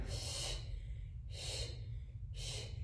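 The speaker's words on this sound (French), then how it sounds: "je pousse mon bras et j'expire" Three breathy exhalations during a simple stretching routine, each pushing one arm out, spaced about a second apart over a steady low background hum, close to the microphone.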